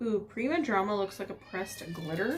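A pet cat named Charlie meows and yowls in protest at nap time, drawn-out wavering cries rising and falling over several seconds, close and fairly loud while someone talks over it.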